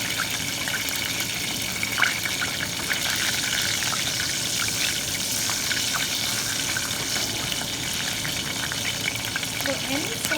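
Cooking in a pan for Hyderabadi tomato chutney just before garlic goes in, a steady, faint sizzle and crackle with a watery hiss running evenly throughout, no talk over it.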